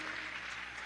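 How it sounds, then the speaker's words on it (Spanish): Concert audience clapping at a Venezuelan blues show in a theatre, a dense, steady wash of applause filling the whole short moment. "Un aplauso para ella, vienen de Barinita, pobrecito."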